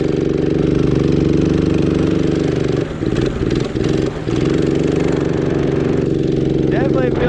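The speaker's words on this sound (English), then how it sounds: "you get all the intake noise you want." A 212cc engine swapped into an Axis M200 minibike roars steadily while being ridden, with a loud, continuous intake drone whose pitch holds fairly even and dips briefly midway before climbing again.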